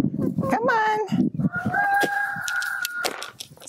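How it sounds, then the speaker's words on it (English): About twenty chickens in a coop, clucking and calling close by, with a rooster-like crow and a long drawn-out squawk, while a person talks amid the flock. "So there's 20 chickens in here at last count."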